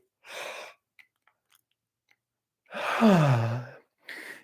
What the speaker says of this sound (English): I like to turn this into a little yawning party